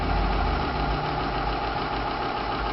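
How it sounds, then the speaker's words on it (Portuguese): Engine running steadily under load during a Militec-1 oil additive test, a continuous low, rough mechanical drone with a knocking edge, close and constant with no voices. "O barulho do motor existe normalmente tudo"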